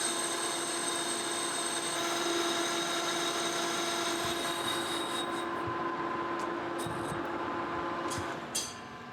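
A lathe takes light cuts turning a helical timing gear for a 1928 Austin camshaft, giving a steady, continuous machining drone with a tonal whine, close and unbroken, ending with a few faint clicks and no speech.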